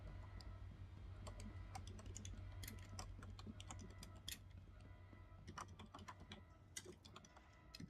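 Steady, fast typing on a computer keyboard during a Star Citizen gaming session, with a dense run of close key clicks and a few sharper clacks over a low background hum.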